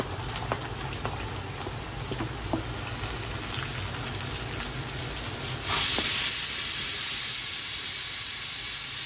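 Ginger fries with browned garlic in hot oil, a soft crackling hiss with scattered pops that jumps into a louder, brighter sizzle partway through and stays steady.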